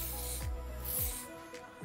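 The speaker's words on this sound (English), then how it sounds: "I always like to finish off with a spray shine" Shine spray mists onto styled hair in three short aerosol bursts, each a soft, close hiss with brief pauses between.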